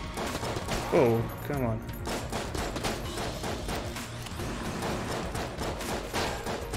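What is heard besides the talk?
boss shooting bullets in Enter the Gungeon video game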